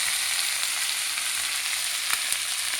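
Soaked sabudana (sago pearls) sizzles steadily as it fries in a hot pan for masala sabudana, a continuous close hiss with a couple of brief stirring clicks and no voices.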